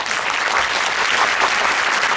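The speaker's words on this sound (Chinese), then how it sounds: "再给他们热烈掌声。" A school wind band concert audience breaks into warm, loud applause, a dense, even wash of clapping from many hands that holds steady for a couple of seconds.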